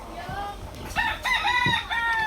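A double-banded Sweater Boston fighting rooster crows close and loud in a single strained call lasting a couple of seconds, with clucking mixed in.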